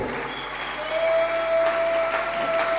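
A church congregation claps together at a service, steady massed applause that swells slightly midway and holds, with a faint sustained tone running underneath.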